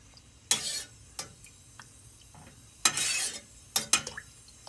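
A regular spoon stirring beets, sugar and vinegar in a pot, giving several sharp metallic clinks and scrapes in separate bursts over a quiet background, close up.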